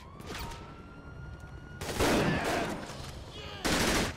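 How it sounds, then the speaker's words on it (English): Bursts of automatic gunfire ring out in GTA V with the LSPDFR police mod, Blaine County Sheriff setting, two dense loud volleys in the second half after a quieter stretch of game sound. "Shots fired, shots fired."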